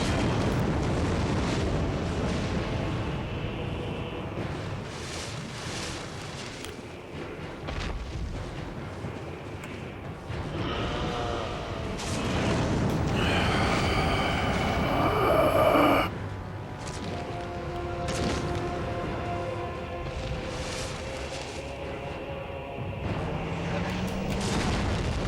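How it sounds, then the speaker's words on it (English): A Dark Souls boss unleashes fire lasers: long roaring, rumbling blasts that swell and surge over many seconds, with a sharper flaring burst near the middle and a low, steady roar beneath. "Is it fire lasers? It's fire lasers."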